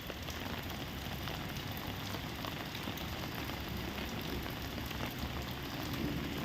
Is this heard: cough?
no